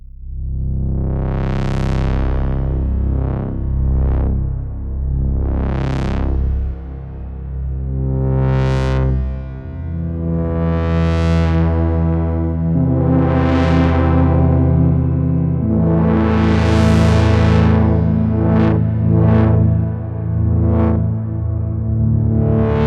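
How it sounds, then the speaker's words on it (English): Source Code, a Kontakt synthesizer instrument, plays resonant triangle and sawtooth waveforms, with a series of sustained notes and sweeping filter peaks rising and falling, loud and alone with a distorted, effected character. "we have triangle waves on the top and sawtooth waves on the bottom, and this is what it sounds like"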